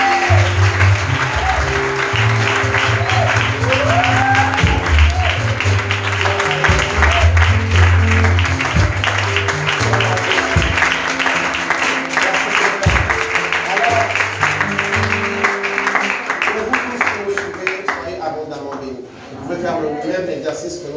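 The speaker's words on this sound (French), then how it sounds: "Est-ce qu'on peut acclamer notre Dieu?" A church congregation at a divine healing service applauds and cheers God, with steady sustained clapping and crowd noise beneath a voice speaking over it, thinning out near the end.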